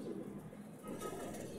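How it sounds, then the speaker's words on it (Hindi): A pigeon coos softly and steadily, close by, with a continuous low murmur from a loft holding male and female birds. "और ये हमारा एक कबूतर बैठा है दोस्तों"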